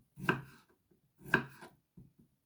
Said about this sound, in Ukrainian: нарізаємо такими кусочками